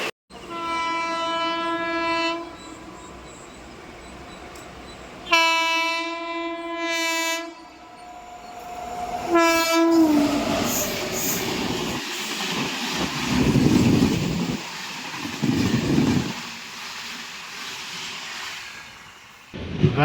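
A train horn blows in several long, loud blasts near a station crossing on the Vijayawada–Rajahmundry line, then a passing train roars by with rumbling wheel noise that swells and fades.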